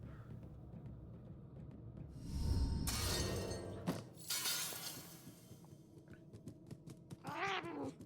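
A video game cat lets out a drawn-out yowl, and glass shatters loudly and briefly. A few sharp crackles and a shorter, rising cat cry follow.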